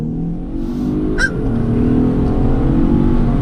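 A 2019 Ford Taurus SHO accelerating hard at full throttle, a steady loud engine drone rising in pitch, heard from inside the cabin, with a brief sharp squeak partway through.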